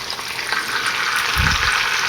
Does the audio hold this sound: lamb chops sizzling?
yes